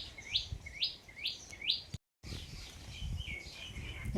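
Birds chirp in a banyan tree on a farm, with a run of four repeated rising tweets, a short break, and then softer overlapping chirps in the open air.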